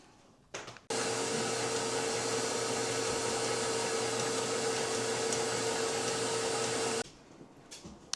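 An electric mixer mixing bread dough with an egg switches on abruptly and runs at a steady, loud whir for about six seconds, then cuts off into a quieter room.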